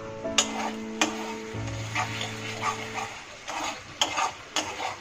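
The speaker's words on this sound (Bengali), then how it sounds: "মশলাটা বেশ ভাজা ভাজা হয়ে এসেছে" Spice paste frying in a pan while being stirred for a Boal (wallago attu) fish dish, with soft sizzling and several sharp utensil scrapes and taps, plus a steady low hum underneath.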